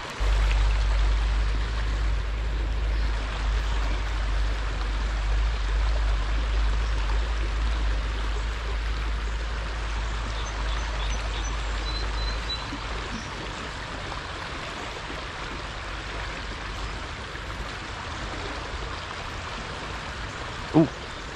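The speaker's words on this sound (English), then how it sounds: "I just love how this water flows through here really quickly" Fast river water rushing over rapids beside slower deep pools, a steady broadband roar that stays loud and constant throughout, with no talking over it.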